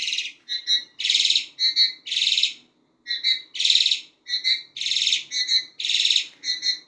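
A pair of Hong Kong mynas (Jalak Hongkong) after moulting call back and forth in a steady run of loud, close, bright whistled phrases with short pauses between them, no talking.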